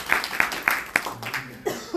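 A morning event crowd gives the host a short burst of applause: a few sharp, distinct claps at first, loosening into scattered clapping mixed with brief laughter and talk.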